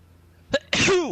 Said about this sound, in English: first time I sneezed in a YouTube video